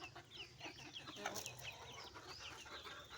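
Chickens clucking on a rooftop where backyard hens are kept: repeated soft clucks and calls from several birds, faint and close, with a low rumbling background.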